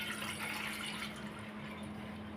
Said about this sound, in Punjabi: ਫਿਰ ਅਸੀਂ ਇੱਕ ਡੂੰਗਾ ਲੈ ਲੈਣਾ ਹੈ ਉਹਦੇ ਵਿੱਚ ਅਸੀਂ ਇਸ ਤਰ੍ਹਾਂ ਪਾਣੀ ਪਾ ਲੈਣਾ ਹੈ